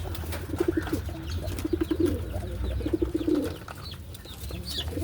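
Pigeons coo in repeated low, throaty bursts at close range, several soft rolling calls spaced a second or so apart over a quiet background hum.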